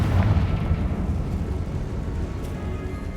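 A Confringo blasting curse in the Hogwarts Legacy video game erupts as a loud, sustained rumbling explosion, heavy and booming from the first instant and fading only slightly over three seconds.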